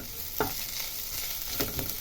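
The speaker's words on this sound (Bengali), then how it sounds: "শুধু কিন্তু বন্ধুরা আমি আদা দিয়ে হালকা নাড়াচাড়া করে নিচ্ছি।" Ginger and onion sizzle in hot oil for dal while a spoon stirs the pan, a steady loud frying hiss with two scraping strokes through it.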